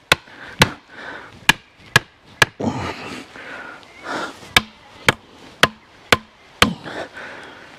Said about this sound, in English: make sure you've got a big mash hammer